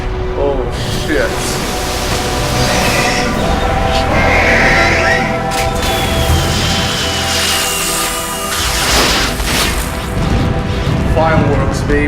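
Continuous loud explosions and crashes in Metal Gear Solid 2, a dense, rumbling barrage of booms with game noise and some talking over it.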